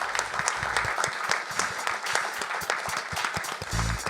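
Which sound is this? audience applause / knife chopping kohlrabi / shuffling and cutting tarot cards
audience applause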